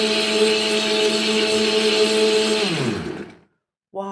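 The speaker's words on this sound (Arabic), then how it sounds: "هحط الزيت واحده واحده ويخلي الخلاط يستريح شويه" A blender whirs loudly and steadily while mixing homemade Nutella ingredients, then winds down and stops, and after a moment of silence a voice starts speaking.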